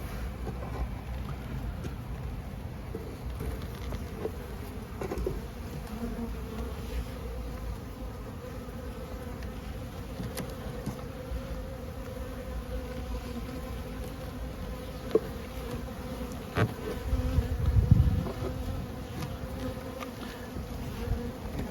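A steady, close insect hum of many honeybees buzzing continuously at an open hive, with a few faint knocks and handling sounds toward the end.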